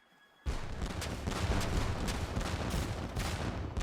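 Ships firing cannons in the Age of Empires 3 video game, a sudden loud volley that rolls into a continuous barrage of booms and blasts.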